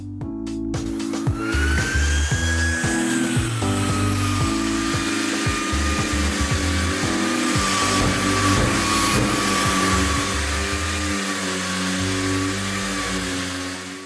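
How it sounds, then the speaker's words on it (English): A Kärcher NT 45/1 Tact Te wet and dry vacuum hums continuously alongside a connected power tool whose pitch shifts, close and steady with no talk. "the vacuum cleaner will only start when you switch on the power tool"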